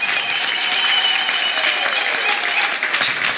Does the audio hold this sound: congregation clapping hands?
yes